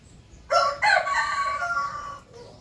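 A rooster crows loudly and close on a terrace, one drawn-out call that rises and holds before trailing off, against quiet rain-like background hiss.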